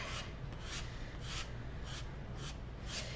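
Faint, rhythmic rasping strokes, about six in a row, come from a scraper feathering dark stain across a wooden Christmas sign background, close and quiet with no talk.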